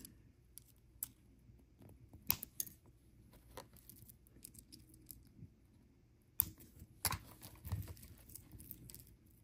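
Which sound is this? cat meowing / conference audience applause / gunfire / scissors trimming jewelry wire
scissors trimming jewelry wire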